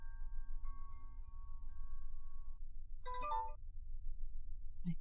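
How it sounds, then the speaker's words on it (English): A manifestation bell in the ghost-hunting video game Paranormal PI, at a lighthouse, gives one brief, faint chime in a quiet space, after a thin, soft tone. "I hear manifestation bell."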